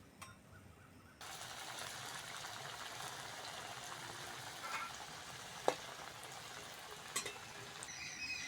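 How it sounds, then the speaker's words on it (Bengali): Raw banana koftas frying in hot oil, a steady, moderately quiet sizzle and bubbling that swells after the first second, with a few sharp utensil clinks, no talk. "বাকি কোপ্তাগুলো এরম ভাবে ভেজে নেব"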